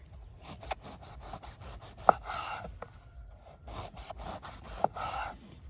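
A bushcraft knife sawing through a crusty baguette, repeated rasping, crunchy strokes with a few sharp crackles, close and fairly quiet, with no one speaking.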